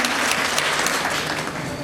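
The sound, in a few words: applause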